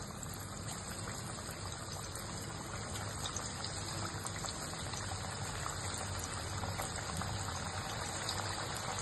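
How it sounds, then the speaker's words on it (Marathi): Lentil vadas drop into hot oil to deep fry, giving a constant dense bubbling hiss that stays steady and close for the whole stretch without any talk. "आता इथे तेल गरम झालेलं आहे। हलक्या हाताने आपण ते वडे तेलामध्ये सोडूया।"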